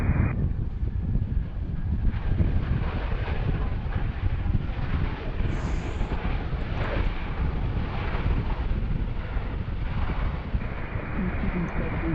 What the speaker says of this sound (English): Runway 31. That's the Delta Connection CRJ 900 from Detroit.